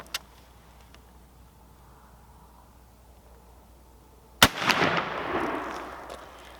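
A single loud, close crack from a Pedersoli 1861 Springfield rifled musket muzzleloader fired with a percussion cap, following a faint earlier pop and trailing into a long rolling echo outdoors.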